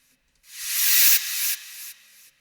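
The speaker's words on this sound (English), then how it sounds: "I've just got this reverse cymbal here" A hissing reversed cymbal wash swells up, then fades away in a few stepped delay echoes, each repeat quieter than the last.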